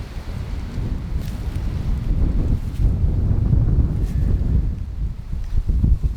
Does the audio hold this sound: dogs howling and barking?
no